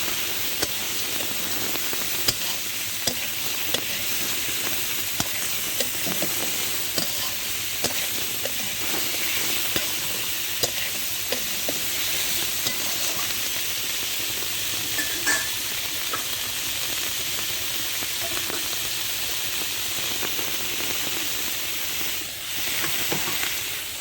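Tiger prawns coated with salt, turmeric and chili powder fry in hot oil, a loud continuous sizzle with scattered clicks and scrapes of stirring, heard up close and without talk.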